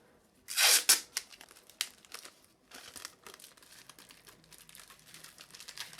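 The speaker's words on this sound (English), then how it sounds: "And then the top part, we'll put a sticky tape." Sticky tape is ripped sharply from the roll, then crinkles and rustles as it is pressed and smoothed down, close and fairly quiet, with a few small crackles trailing off.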